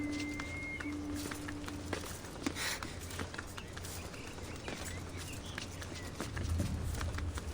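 Horse hooves clip-clopping in the video game Assassin's Creed Odyssey, a soft steady walking rhythm heard at moderate distance under ambient game sounds and faint background noise.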